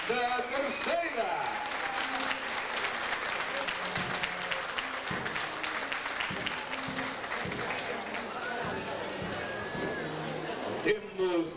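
Steady applause from a crowd claps on throughout, with voices talking and calling out over it.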